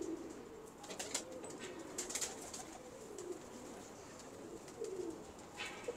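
Pigeons of the Jeith breed coo in a steady, overlapping series of soft, throaty calls close by, with a few brief wing or movement sounds and no talking.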